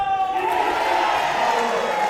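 A basketball crowd in a gym roars and cheers after a dunk, a loud sustained wash of voices and whoops with an announcer talking over it.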